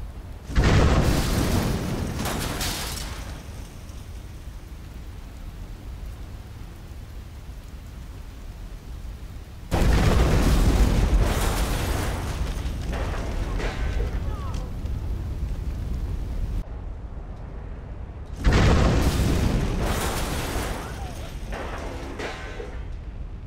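A gas station blows up in the Watch Dogs video game running a next-gen graphics overhaul mod: loud booming blasts return in three waves, each followed by a long, rain-like crackling roar that fades away.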